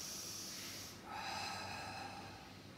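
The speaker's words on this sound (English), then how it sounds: "Breathe in here." Slow, deep breaths during a Pilates exercise, a long airy inhale then a shift into a breathy exhale, close and soft with no talking.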